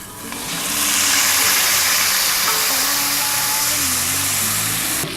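Pieces of meat searing in a hot pan for a New Year's recipe, a steady loud sizzle and hiss that swells after a brief quiet start and holds for several seconds.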